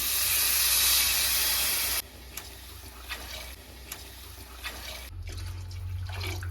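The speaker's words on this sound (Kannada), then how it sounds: "ಇದೇ ಗ್ಲಾಸಿಂದ ನಾನು 4 ಗ್ಲಾಸ್ ಅಷ್ಟು ನೀರನ್ನು ಹಾಕೊಳ್ತೀನಿ" Water splashes into a cooking pot of rice for egg biryani, a loud rushing pour for the first two seconds, then quieter hissing and light clinks as it settles; no talking.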